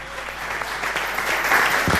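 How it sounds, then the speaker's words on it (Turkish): A studio audience on a Turkish TV entertainment show bursts into sustained applause, with steady, dense clapping that holds for about two seconds and swells slightly toward the end. "Alkışlar elleriniz dert görmesin."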